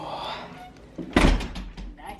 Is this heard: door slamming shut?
yes